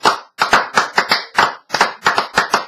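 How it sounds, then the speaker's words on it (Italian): Single person clapping hands about a dozen times in an uneven rhythm, close and dry, with short pauses between bursts. "rifacciamo un applauso"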